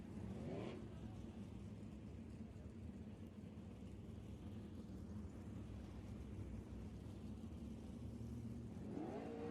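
Sprint car engines, 360 class, run at East Bay Raceway Park, a continuous distant roar and drone from the racing with a few rising revs near the start and end.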